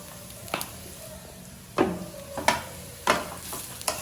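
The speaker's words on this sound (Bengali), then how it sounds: "চিকেনটা অল্প ভাজা ভাজা হয়ে যাওয়ার পরে তার মধ্যে আমি কুচো করা পেঁয়াজ আর লঙ্কাটা দিয়ে দিয়েছি।" Chopped onion and chilli sizzle in oil with lightly fried chicken, a steady close hiss broken by four or five sharp spatula scrapes and stirs against the pan.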